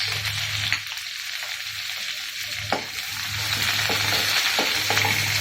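Chopped ginger, green chilli, urad dal and curry leaves crackle and hiss in hot butter for oats upma, a continuous close sizzle with a few light stirring taps and a faint low hum underneath.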